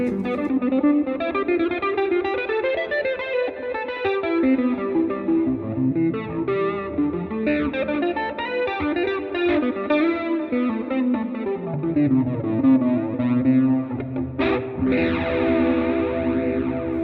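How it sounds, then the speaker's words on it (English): Electric guitar, a Suhr Pro Series M8 with the tone knob rolled off, playing chords and melody with a warm, mellow tone, steady and sustained, with a slight chorus shimmer and no talking. "When you roll off the tone on this guitar, actually, this gives a really lovely warm sound."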